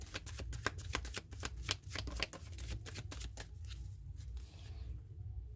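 Tarot cards shuffled by hand up close, a quick run of crisp riffling flicks that thins out into quieter handling at the end, with no talking.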